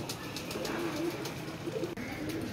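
Pigeons coo softly and repeatedly in low, throaty murmurs over a steady outdoor background hiss, with no voices heard.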